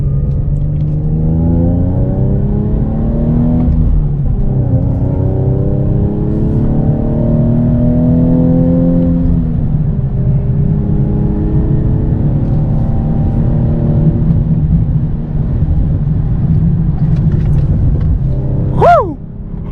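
A tuned E85 Infiniti G37 engine drones loudly and continuously, pitch rising and falling as it revs through gears in turns, with a sharp high squeal near the end.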